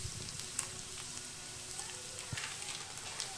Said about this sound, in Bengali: তেলটা আমার গরম হয়ে গেছে। আমি এতে রসুন দিচ্ছি